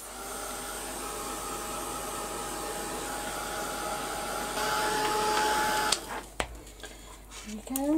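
A hair dryer blows steadily at close range, drying layers of paint on paper. The whooshing hum holds for several seconds, then shuts off and gives way to scattered clatter and rustle.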